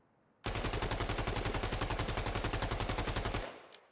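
Sustained full-auto gunfire from a WWII-era weapon in the shooter game Battalion 1944, a rapid, even burst of loud shots lasting about three seconds before cutting off, with no talking.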